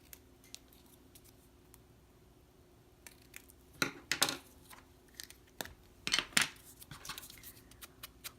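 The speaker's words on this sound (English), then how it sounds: "I'm going to cut these at an angle" Paper hinge pieces from a craft kit cut at an angle with scissors, a few quiet snips and crisp slicing strokes spaced out over a low background hum, close and fairly faint, with no talking.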